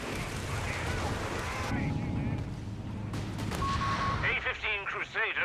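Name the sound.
Land Mattress rocket artillery barrage in Company of Heroes 3 video game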